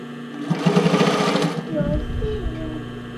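A sewing machine stitches a 1980s sailor shirt in a short, steady burst, then stops while someone talks over the quieter tail end.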